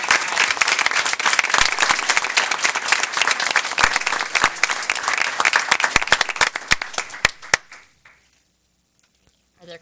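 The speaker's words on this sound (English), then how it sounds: "And if you would indulge us all in one final round of applause for all of these honorees." An audience at a school board meeting claps for honorees in a dense, close round of applause with sharp individual claps. It thins out and stops, leaving near silence and a few stray claps.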